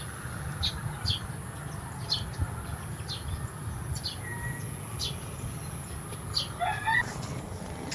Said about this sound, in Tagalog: katabi ng bahay ko may farm ng mga panabong na manok